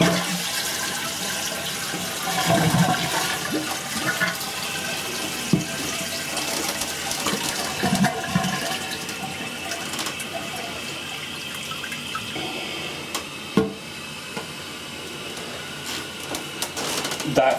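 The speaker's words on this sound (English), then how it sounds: "That flush sounded a lot better. It is filling up way quicker." A toilet with a Fluidmaster fill valve flushes with a loud rush of water, then the tank refills with a steady hissing stream that runs on under the drain gurgle.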